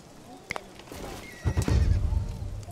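In the video game Dawn of Man, a horse whinnies faintly over soft ambient game sound, followed by muffled hoof clops and thuds that grow louder toward the end.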